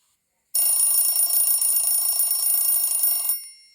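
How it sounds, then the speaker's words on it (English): An alarm clock goes off in the morning, a bright, continuous electronic ring that starts abruptly, holds steady for nearly three seconds, then cuts off with a short fading tail. "The alarm goes off, but James is already up."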